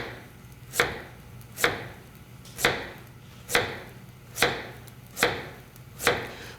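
A knife chops rutabaga into slices on a board: eight sharp, evenly spaced cuts roughly every 0.8 seconds, close and crisp over a faint background hum, with no talking.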